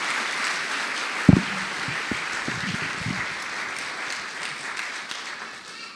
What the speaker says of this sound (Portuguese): Receba a salva de palmas do pessoal.